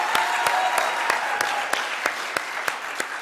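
An audience gives a round of applause for youth leader Mike at a youth group award show, a small group of sharp regular claps, fairly close and steady.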